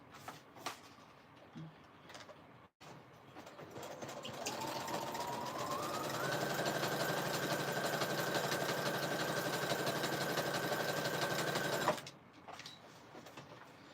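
A sewing machine stitches through glued paper pages of a handmade journal. Its motor hums steadily and rises to a sustained whir for several seconds, then cuts off, with a few soft handling noises before and after.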